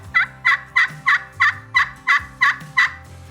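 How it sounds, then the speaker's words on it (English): An aluminum slate turkey call makes a run of nine evenly spaced hen yelps, loud and close, raspy and fairly high-pitched like an older hen, with no voices over it. "So this is an aluminum call here."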